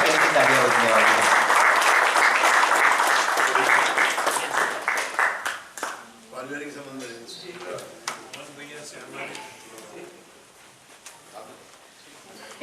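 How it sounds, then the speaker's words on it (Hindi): Loud, dense applause from an audience at an award function swells at first, then thins into scattered claps as voices and chatter take over the hall. "आप लोग तालियां इसलिए बजाते रहिए"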